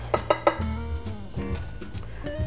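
A spoon stirs a rye cocktail in a glass, with three quick bright clinks and then rattling, scraping ice and glass sounds nearby, loud and clear with no talking.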